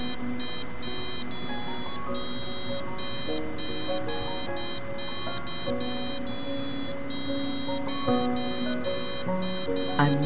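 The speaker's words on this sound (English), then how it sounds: "When I push the left button, the buzzer will sound simultaneously with the Neo Pixel." Repeated electronic buzzer beeps pulse in steady on-off bursts, triggered by a button press alongside a NeoPixel light, mixed with tonal electronic notes stepping in pitch; moderately quiet, no talking.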